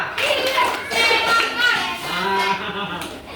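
Children clap their hands in a counting game, several pairs of small hands slapping together close by, mixed with overlapping children's voices chattering and calling throughout.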